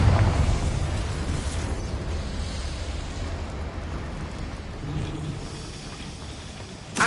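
Confringo fire spell in the Hogwarts Legacy video game bursting into a loud, rumbling explosion that rolls on as a long, noisy roar and slowly fades, with a small pop at the end.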